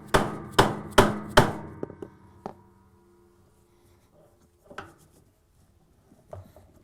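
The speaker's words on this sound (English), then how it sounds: "Place the brake removing tool on the brake assembly and using the mallet, unscrew it counterclockwise." A mallet strikes a brake removing tool on the brake assembly of a Maytag washer in four sharp, ringing metallic blows close together, then one more hit. Scattered softer knocks and clinks follow.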